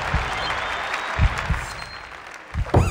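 A virtual crowd applauds and cheers in the Kinect Sports Season Two darts video game, a steady wash of clapping with a few louder thumps and swells, while a commentator talks over it.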